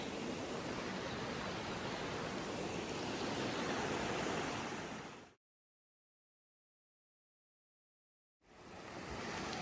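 Cold Kennebec River water rushes loudly and close by as a hiker wades across at knee depth, a dense steady roar that cuts out to silence for about three seconds before returning.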